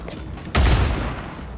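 A sniper rifle fires once in the video game Cyberpunk 2077: a sudden loud, booming crack that rolls off into a short, fading echo over a quiet background.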